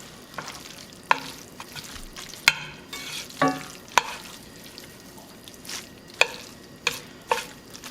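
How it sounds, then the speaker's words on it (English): Lemon pepper spaghetti simmering in a pan, a soft low bubbling fry broken by sharp scrapes and clicks of stirring utensils, close and fairly quiet, with no voices. "I have my pan on a simmer right now."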